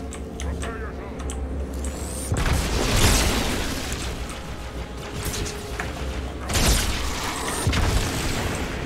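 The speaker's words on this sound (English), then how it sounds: "Grenade!" A grenade blows up in the Halo 2 video game, a broad booming burst followed by a second loud blast a few seconds later, with continuous game noise and players talking over it.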